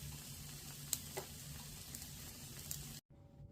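Food in a pan sizzles and crackles steadily after being flipped to cook the other side, a soft continuous fry with small pops, cutting off abruptly near the end.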